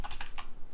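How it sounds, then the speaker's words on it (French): Quick run of keystrokes on a computer keyboard, close and crisp, with a handful of distinct taps in under a second and no talking. "j'arrive pas à taper sur ce clavier,"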